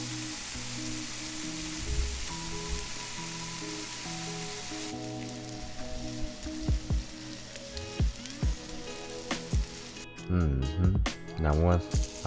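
Bacon fries in a pan with a steady crackling sizzle throughout, while someone talks over it intermittently.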